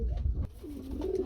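Lahori pigeons cooing close by, a soft low rolling coo that rises and wavers, preceded by a brief burst of low rumble.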